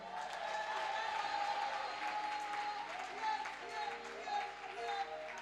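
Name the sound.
congregation applauding to acclaim Jesus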